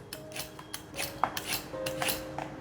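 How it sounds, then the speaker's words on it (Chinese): Repeated scraping strokes of a hand peeler across a raw carrot, about eight quick rasping pulls in a steady rhythm, close and fairly quiet with faint metallic ticks. "把红萝卜削皮"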